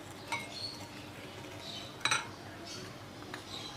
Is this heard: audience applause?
no